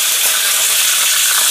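Curry leaves fry in hot oil alongside lemongrass, giving a loud, bright, continuous sizzle and crackle, heard close up with no talking.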